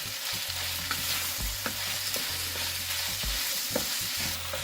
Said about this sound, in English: Now we're going to add our peppers, and we stir fry